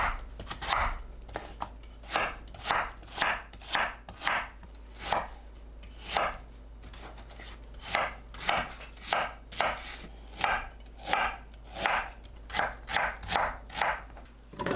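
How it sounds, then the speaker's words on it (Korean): A knife chops radish, pear and ginger for kimchi on a board with repeated sharp thuds, some evenly spaced and some in quick clusters, close and loud with no speech. "무, 배, 생강을 믹서에 갈기 좋은 크기로 썰어줍니다."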